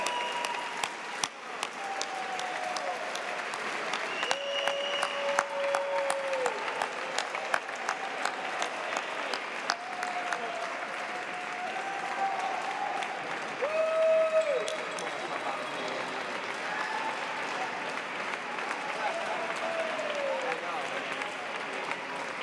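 An audience at the International Cannabis Awards 2024 gala applauds steadily for a long stretch, a dense patter of clapping, while a voice speaks over it.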